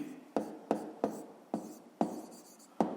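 Handwritten strokes on paper while working a fifth-grade maths problem give a quiet, close series of six short scratchy taps at irregular intervals, with no talking.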